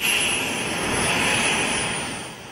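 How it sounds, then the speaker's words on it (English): A jet suit driven by six gas turbines with about 800 horsepower in total gives off a loud, steady turbine roar with a high whine. It holds at full strength throughout and eases slightly near the end, with no voices. "It's powered by 6 gas turbines, together delivering 800 horsepower."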